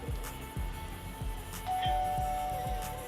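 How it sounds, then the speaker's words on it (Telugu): A doorbell in a Telugu actress's home rings with a clear electronic ding-dong chime, sustained tones ringing out close and fairly loud over a low background hum, with no talk. "calling bell"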